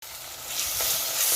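A loud, close sizzle of ingredients sautéing in a pan for fish curry, rising steadily and continuing without pause.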